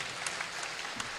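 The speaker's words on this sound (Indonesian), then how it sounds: "Tepuk tangan untuk sebuah cita-cita." Audience clapping at an academic rector's speech event, a steady, moderately distant patter of many hands filling the whole short stretch without voices.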